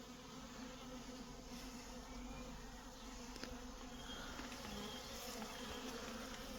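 A honey bee swarm gathered on a fence makes a steady, faint, even buzzing drone that continues throughout, with no voices.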